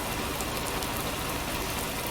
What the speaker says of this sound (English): As you see, the rain is lashing down at the moment.